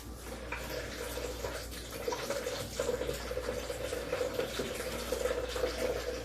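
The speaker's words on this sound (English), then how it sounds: "we're going to run the water over this, you know, and rinse this cabbage really well" Tap water runs steadily into a kitchen sink over a head of cabbage being rinsed, a continuous splashing rush with no talk.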